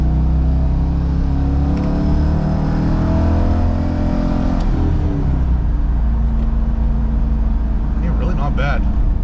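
Stock exhaust of a C5 Corvette Z06 rumbling loud and close with deep low-end throb, a rising rev around the middle and another burst near the end, while a person talks over it.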